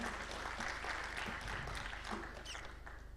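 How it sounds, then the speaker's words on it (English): A seated audience at a regional conference gives a round of applause, steady mixed clapping from a roomful of people that begins to thin toward the end. "A good round of applause for him again."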